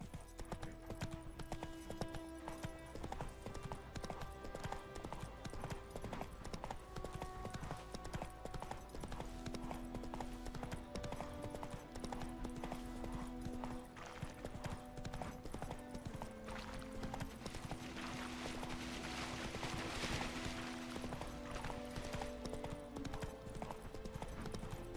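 Hooves of a horse in the Witcher 3 video game clip-clop in a steady galloping rhythm throughout, fairly quiet, with faint game music underneath and no talk.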